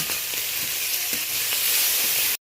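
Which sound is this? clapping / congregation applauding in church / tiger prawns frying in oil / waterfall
tiger prawns frying in oil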